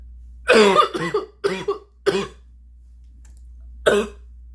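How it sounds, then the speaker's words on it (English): A short coughing fit: four harsh coughs in quick succession, a pause, then one more cough, close and fairly loud with no talking. "continuing what I was saying before my coughing fit"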